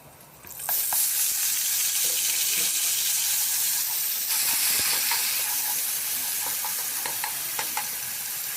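Onion paste frying in hot spiced oil, a loud continuous sizzle that bursts up at the start and carries on steadily with faint scraping from stirring.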